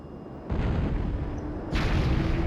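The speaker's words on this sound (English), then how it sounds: "And here goes the cannons." Fortress cannons firing in Skies of Arcadia: Legends, two heavy booming blasts about a second apart, the second landing louder and sharper, with no talk.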